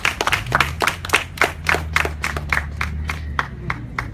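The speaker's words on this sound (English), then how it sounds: "Everybody give her a round of applause." Crowd at an outdoor press conference clapping for a City Council candidate, distinct rhythmic claps from a modest group, close and fairly loud, with a low hum beneath.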